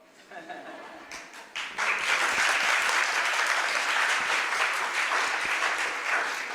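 Audience applause at a religious seminar session starts with a few scattered claps, then swells into steady, full clapping that continues evenly to the end.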